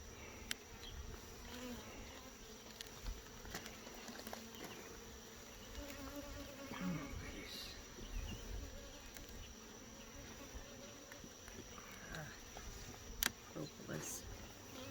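Honeybees drone steadily in a dense, continuous buzz as a hive is opened and its frames inspected, the hum close and unbroken for the whole stretch with a few faint rustles over it.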